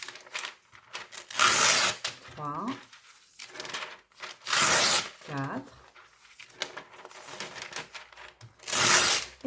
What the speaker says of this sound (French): Et je déchire 3 et encore une ou deux, 5 feuilles.